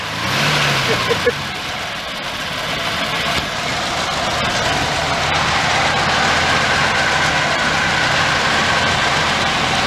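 A 1935 Packard 120 coupe engine turns over and catches, settling into a steady, loud idle with a continuous broadband rumble throughout.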